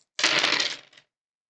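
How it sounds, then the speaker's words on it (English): A handful of dice clattering across a tabletop in one short rattling burst that quickly dies away, loud and close, with silence around it. "let's roll these dice once more"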